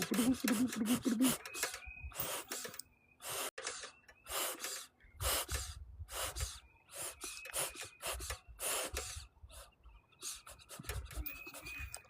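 Bellows of a bee smoker pumped by hand while burlap fuel is lit, giving a series of breathy whooshing puffs in an uneven rhythm, close and fairly quiet, with gaps between puffs.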